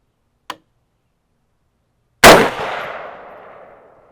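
A single loud rifle shot from a Palmetto State Armory 6.5 Grendel upper at an outdoor range, a sharp crack followed by a rolling decaying echo, preceded by a small faint click.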